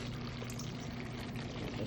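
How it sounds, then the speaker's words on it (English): Water pouring steadily into a pot of Jamaican stewed chicken over low heat, a continuous close splashing stream lasting the whole moment with no voices. "I'm gonna add some water to this."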